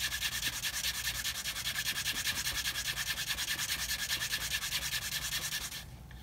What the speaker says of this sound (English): Like I say, smoother the leather, better the burnishing.